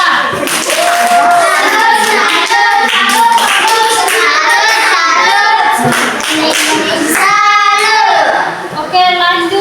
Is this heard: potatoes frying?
no